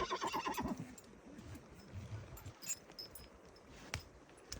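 A horse whinnies loudly at the start with a shaky, rising-and-falling call as foals are released to nurse from mares, followed by quieter snorts and faint stirring in the background.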